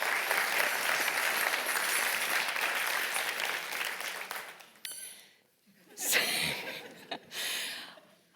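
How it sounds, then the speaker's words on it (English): An audience at a live event gives a round of applause that runs steadily for several seconds, then dies away, followed by a few chuckles, a squeaky toy sound and a voice. "So, round of applause, thank you."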